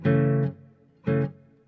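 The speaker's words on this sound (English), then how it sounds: "And now with the reverb." Classical guitar with a reverb effect added, two separate plucked chords each ringing out and then fading into a reverberant tail, quiet and close.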